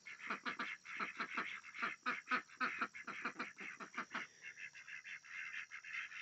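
Ducks in a backyard garden quack repeatedly in quick, rhythmic runs, fairly faint and slightly distant, with a softer chattering stretch toward the end.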